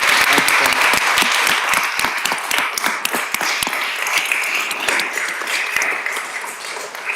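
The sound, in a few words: applause at a city council meeting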